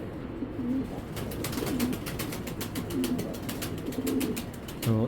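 Pakistani racing pigeon cooing nearby, several low throaty coos repeating at a steady rhythm, with busy chirping from other birds all around.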